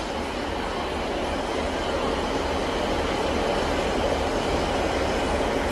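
A Northern class 156 diesel train pulls out of Sunderland station, heard from on board as a constant loud rumble and rattle of engine and wheels that fills the whole stretch.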